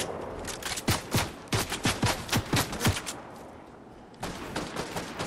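Gunfire in Fortnite, a volley of sharp, evenly spaced shots in a steady rhythm, a short pause, then another burst of rapid fire.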